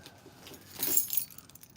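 Keys jangle in a pocket with a short metallic rattle that peaks briefly in the middle, close and fairly quiet, with no voices over it.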